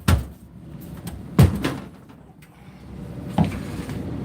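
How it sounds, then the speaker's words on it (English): An indoor door shut three times, each a dull thud with a brief rattle, spaced irregularly over a quiet room background. "I should never shut this door."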